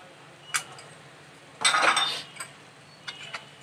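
A spoon stirs ginger garlic paste into a palak chicken curry in a pan, with a few scattered metallic clinks and one longer scraping rattle, close and fairly loud over a quiet background.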